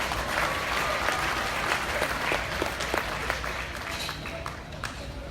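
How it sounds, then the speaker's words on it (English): At a livestock show, a crowd gives sustained applause for a young contestant, a dense wash of clapping with a few louder claps and murmurs throughout. "Let's give Colvin a big round of applause."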